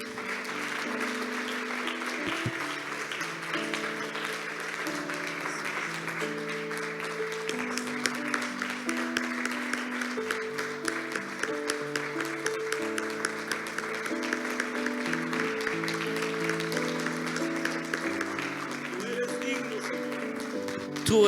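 Loud, sustained applause fills a church service at Iglesia Nuevos Comienzos in Mexico, a steady dense clatter of many hands over soft music underneath for the full stretch.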